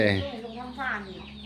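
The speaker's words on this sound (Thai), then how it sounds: "ไก่ด้วย เลี้ยงไก่ด้วย" Chickens kept at a home in Chakkarat, Korat, cluck in a short close burst with clear harmonic calls, loudest at the start and again near the middle, while voices murmur faintly underneath.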